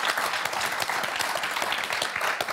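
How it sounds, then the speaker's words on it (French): A Motus game show studio audience applauds, a dense, loud burst of clapping filling the brief moment with no talk over it. "on va applaudir notre championne, nos championnes, Claudine et Christelle."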